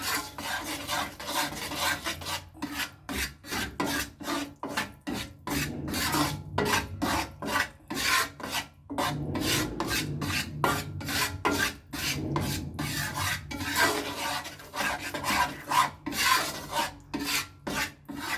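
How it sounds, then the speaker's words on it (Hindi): Gram flour for besan barfi roasts over a low flame in a pan while a spatula scrapes and rubs through it in steady, rhythmic strokes, close and fairly loud, with no talk. "अच्छा भून रहा है ये। अब इसको थोड़ा सा और करेंगे, हल्की सी आंच पे बना रहे हैं।"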